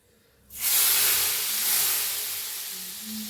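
Red chili powder tempering poured into hot kadhi bursts into a loud sizzling hiss after a brief quiet moment, then keeps spitting steadily and fades only slightly.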